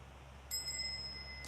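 A single small ritual bell rings once, its clear tone lingering and slowly fading against a quiet low hum.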